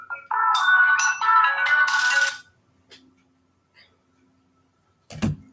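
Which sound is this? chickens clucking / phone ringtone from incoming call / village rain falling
phone ringtone from incoming call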